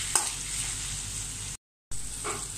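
Ginger and green chillies fry in plenty of oil for a date pickle, with a steady close sizzle and a couple of sharp scrapes from stirring, broken by a short gap of silence.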